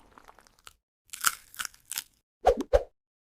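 Someone chewing crunchy food up close, a string of sharp, separate crunches spaced a moment apart against near silence, with no one talking.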